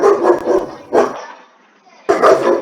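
A dog barks loudly and close in three bursts of rapid, rough barking separated by short pauses, during a Spanish-language talk.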